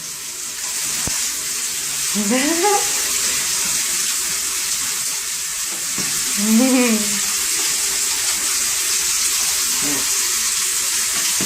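Tap water runs steadily into a bath while Mel, a dog, is washed. The rushing stream is close and constant, with a couple of brief vocal sounds rising over it.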